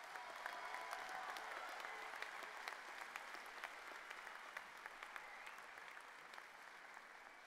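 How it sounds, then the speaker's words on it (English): Audience at a University of South Carolina ceremony gives a sustained round of applause, steady dense clapping heard faint and distant throughout the whole stretch. "one more round of applause for these incredible individuals"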